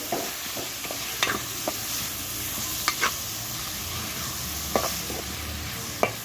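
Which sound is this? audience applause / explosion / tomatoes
tomatoes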